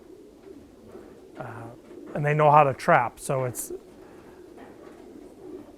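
Racing pigeons cooing inside a loft, soft repeated coos under someone talking nearby, with a brief louder burst of calls partway through.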